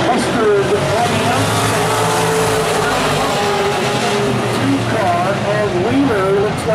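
Vintage modified race cars run a 75-lap main at South Sound Speedway, with a steady roar of engines and occasional tire squeal throughout, heard under continuous announcer commentary.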